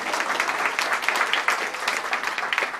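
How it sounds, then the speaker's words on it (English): Audience applause at a celebration for Delaware's first-place win in a state enrollment contest: a steady, dense wash of many hands clapping close by, sustained for the whole stretch with no voices over it. "All right, nice round of applause."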